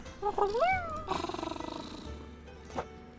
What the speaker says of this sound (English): And pet the random cat.